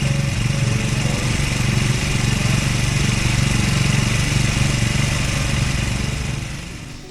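A Triumph Speed 400 motorcycle at about 15,400 km runs at a steady idle with a constant, close, buzzing engine drone and a faint metallic shimmer, easing slightly at the end.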